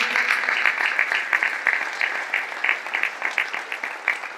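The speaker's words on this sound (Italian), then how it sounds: "voglio fare un applauso, fatelo cumulativo" Steady applause from a sizable crowd at a conference on climate change, dense clapping sustained throughout with a few sharper claps standing out, no talking.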